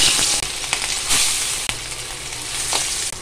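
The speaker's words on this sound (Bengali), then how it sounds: "তেলটাকে একটু গরম করে নিয়ে দিয়ে দিচ্ছি ইলিশ মাছ।" Marinated hilsa fish frying in a pan of hot oil gives a loud, steady sizzle with scattered crackles and pops throughout, and no voices.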